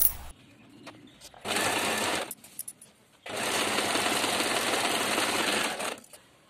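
Sewing machine stitching the shoulder seam of a gent's half kurta, two bursts of rapid needle chatter, a short one then a longer run, separated by quiet pauses with small handling clicks.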